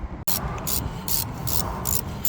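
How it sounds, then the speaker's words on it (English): A ratchet tightens a brake caliper slider bolt on a Suzuki Grand Vitara, giving a close, loud run of rhythmic clicking strokes after a brief pause at the start. "the slider bolt. Getting tightened up there."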